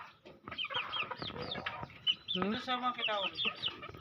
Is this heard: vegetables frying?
no